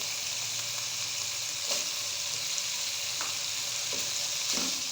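Carrots fry in hot oil for vegetable fried rice, a constant close sizzle broken by a few light scrapes and taps of stirring.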